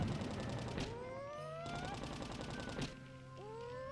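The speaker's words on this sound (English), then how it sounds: "So we'll toss 2 bombs here." Bombs exploding in the Pikmin video game: a few sharp, crackling bursts, spaced apart and mid-loud, over tonal game music with rising chirps.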